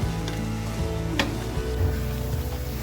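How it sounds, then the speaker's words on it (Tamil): A Kilakarai-style saliyakari mixture sizzling in a pan after sesame oil is added, with steady frying crackle, a few stirring clicks and one sharp utensil knock. "நான் 100 ml நல்லெண்ணெய் இதில் ஆட் பண்ணுறேன். நல்லா மிக்ஸ் பண்ணிக்கிறோங்க."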